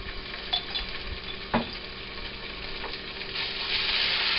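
Garlic and black bean sauce frying in a pan, a soft steady sizzle under occasional scrapes and clinks of a utensil stirring, growing slightly louder and hissier toward the end.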